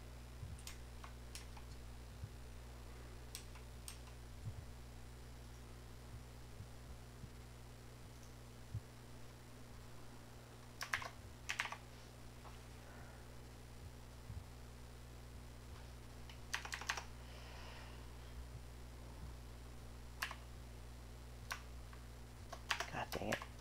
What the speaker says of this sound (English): I keep typing wrong.